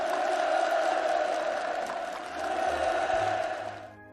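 Participants at a farm housing handover ceremony in Manpo applaud enthusiastically, a dense, sustained wash of clapping with crowd voices that fades near the end.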